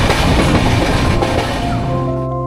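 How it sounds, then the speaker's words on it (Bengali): A passenger train pulling out on the Sealdah to Siliguri route, a loud close rumble and clatter of wheels on rails from inside a carriage, steady and continuous throughout. "সঠিক সময়ে ট্রেন ছেড়ে দিয়েছে আমাদের।"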